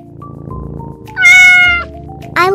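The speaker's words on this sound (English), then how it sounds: "A little cute cat." A small cat meows up close, one clear drawn-out meow followed by the start of another, with a soft background hum between calls.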